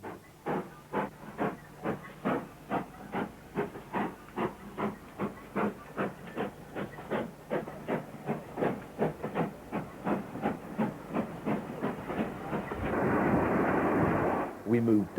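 A GWR Grange class steam locomotive works hard, its rhythmic exhaust chuffs steady and evenly spaced, then gives way to a rushing burst of steam at the end.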